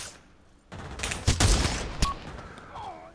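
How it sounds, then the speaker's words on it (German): Gunfire in the VR shooter Pavlov on PlayStation VR2 during a team deathmatch against bots: a sudden burst of rapid shots with sharp cracks, fairly loud and close, then trailing off into scattered reports. "Irgendwo schießt da von oben jemand auf mich."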